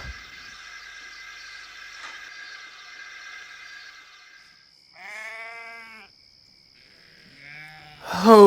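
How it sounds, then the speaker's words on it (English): Sheep bleat in a few distinct, fairly close calls, with a steady hiss of a steam engine beneath them and a louder burst at the end. "to be stuck here with these noisy sheep forever"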